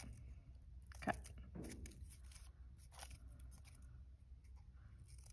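Scissors snip through folded paper while cutting a paper snowflake, a faint, close sequence of sharp cuts spaced irregularly against a quiet background.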